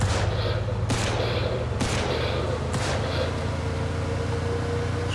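Gunfire in the Mafia II video game: three sharp shots crack out about a second apart over a constant low engine drone, with loud, dense game sound throughout.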